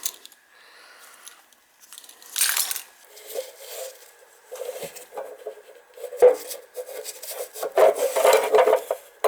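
A threaded fitting coated with pipe dope is worked and tightened into a hot water storage tank, producing irregular close metallic scrapes, clinks and grinding rasps in short bursts separated by quiet gaps, no talk.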